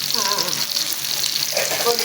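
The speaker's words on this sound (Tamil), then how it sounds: "கொதிக்க ஆரம்பிச்சு" Lentil dal bubbles and boils steadily in a pot, a continuous close hissing, sizzling texture with faint voices in the background.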